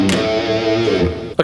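Distorted electric guitar playing a quick pentatonic lick, loud and close with dense, saturated sustained notes, cut off abruptly near the end.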